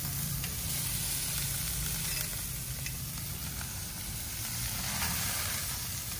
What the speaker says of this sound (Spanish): vamos a asar estas costillas